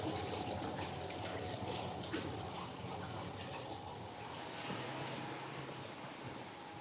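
Nutrient-laced water runs through watering pipes inside a greenhouse, giving a steady, close, continuous rushing flow with a faint gurgle and no break.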